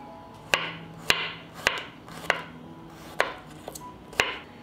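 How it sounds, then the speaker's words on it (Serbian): Four garlic cloves are chopped with a knife, giving a steady series of about eight close, sharp knocks on a cutting board at an even pace. "Iseckat ću i 4 čena belog luka."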